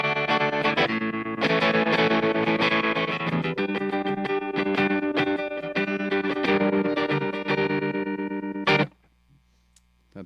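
Electric guitar run through a Strymon Flint pedal set to a fast, intense hard-cut tremolo, giving loud, choppy chords that pulse rapidly before stopping abruptly near the end, with no voices.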